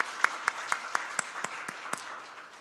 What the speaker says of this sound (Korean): 우리 선생님들께 다시 한번 감사의 박수 드리겠습니다.